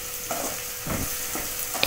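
Onion, garlic and tomato sautéing in a pan for a piranthai garlic kulambu, with a soft steady sizzle under a few short scraping stirs spaced about half a second apart, close and alone.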